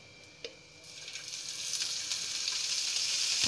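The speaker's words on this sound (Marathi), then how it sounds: "आता हे चांगलं परतून घ्यायचं बघा" Chicken masala of whole spices and coconut is sautéed in a spoonful of oil. A single tap is followed by a hiss that rises steadily into a loud, continuous sizzle close by.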